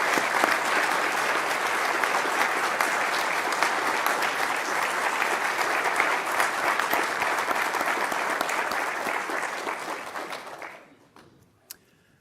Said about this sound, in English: So please join me in a final applause.